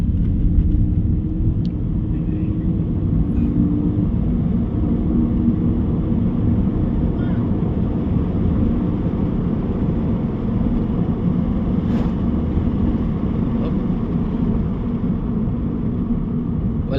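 A Toyota 86 out on a road test after a check-engine and shaking fault, a constant heavy engine and road rumble from inside the cabin, steady and loud throughout with no talking.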